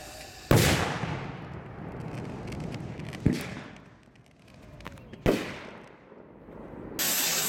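Firework rocket blasts inside an HDPE tube, a failed Texas Pop salute with a multiple rocket on top, three loud booming reports with long rumbling tails over outdoor background noise.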